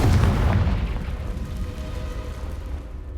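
The Confringo fire spell explodes in the video game Hogwarts Legacy with a heavy booming blast, loudest at the onset, then a rumbling roar that slowly fades and thins over a few seconds.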